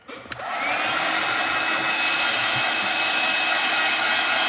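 A hair dryer is switched on with a click and then blows loud and steady from close range, drying a washed acrylic painting with a constant broadband whoosh.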